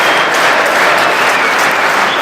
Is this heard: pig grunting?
no